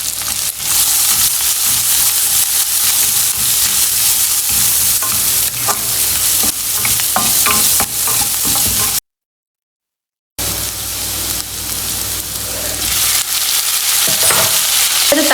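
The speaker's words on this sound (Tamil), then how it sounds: "வெங்காயம் ஆட் பண்ணிவிட்டு ஒரு 1/2 டீஸ்பூன் மஞ்சள் தூள் ஆட் பண்ணிக்கோங்க." Onion and turmeric powder sizzle and fry in a pan, a continuous loud crackle with scraping stirring strokes throughout and a brief silent gap partway.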